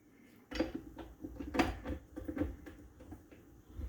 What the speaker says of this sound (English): And what we're going to do is just stir in the butter.